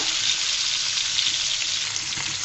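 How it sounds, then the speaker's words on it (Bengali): Pointed gourd (potol) pieces sizzle steadily in hot oil in a pan as they are turned and fried, a loud, even, close frying hiss that continues throughout without talk. "উল্টিয়ে পাল্টিয়ে ভালো মতো পটলটা বেজে নিতে হবে"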